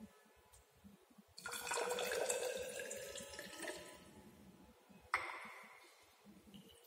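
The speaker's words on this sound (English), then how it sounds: "Then add distilled water to produce 25 ml." Distilled water is poured into a container in a pharmaceutical chemistry lab, a steady trickling stream lasting a couple of seconds, then a short second splash, close and fairly quiet.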